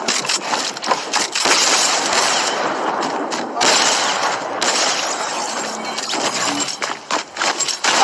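Assault rifle fire in an online one-on-one video game match crackles in rapid, dense bursts almost continuously, loud and close, mixed with other game effects.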